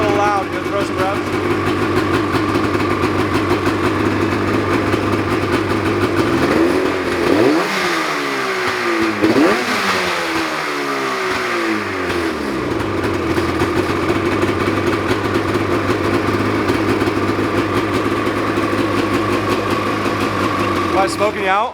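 A two-stroke RZR side-by-side engine idles loudly and steadily, with a couple of sharp revs rising and falling near the middle, while voices talk over it.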